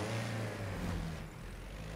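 A 1924 Austin 7 engine in the racing game Forza Horizon 4, a small engine idling and revving with a low, steady drone that eases off partway through.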